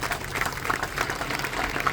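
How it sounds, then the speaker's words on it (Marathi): Steady applause from an audience at a political party members' gathering, a dense, even clatter of clapping that holds for a couple of seconds. "चाळके साहेबांसाठी दुसऱ्या टाळ्या वाजवा, जोरदार, जोरात वाजवा"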